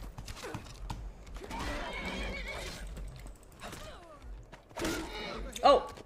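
A horse whinnies in the Skyrim video game amid hoofbeats and clattering game noise, with a sharp, loud neigh rising near the end over the busy, moderately close background.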